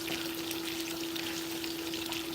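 Potatoes fry in a pan with steak and caramelized onions, giving a dense, steady sizzle heard close and continuous for a couple of seconds, with no talking.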